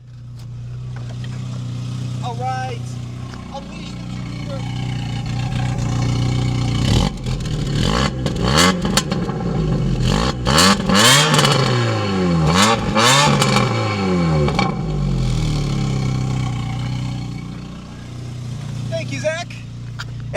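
A Mk2 VW Golf GTI engine idles, recorded close to the exhaust, then revs hard several times in sharp, roaring bursts before dropping back; brief speech at the start.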